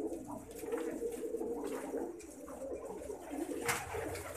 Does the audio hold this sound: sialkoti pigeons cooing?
yes